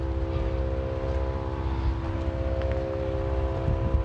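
An air compressor runs nearby at an off-road trail site, giving a continuous, even mechanical drone with a steady tonal hum and no breaks, no voices over it.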